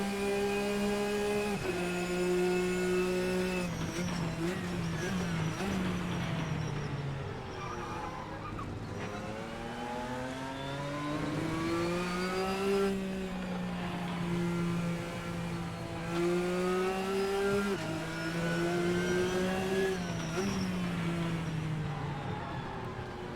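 GT race cars from the RSS GTN pack in the Assetto Corsa racing game, including a Viper, a Ferrari and a Saleen, roar continuously with rising and falling engine pitch through gear changes, loud and steady throughout.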